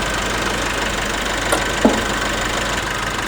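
A 2016 Nissan Navara VL double cab's 2500 cc diesel engine idling with the hood open, a steady loud drone with one faint tick partway through and no voices.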